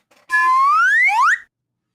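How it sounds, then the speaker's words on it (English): A single bright whistle, about a second long, glides upward in pitch and then cuts off cleanly, surrounded by silence. "Play the whistle, Burns."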